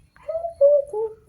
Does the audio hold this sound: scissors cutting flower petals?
no